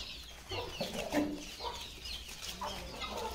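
Fighter chickens kept alongside turkeys and guineafowl give soft, repeated clucks at close range, several short calls spread over a few seconds.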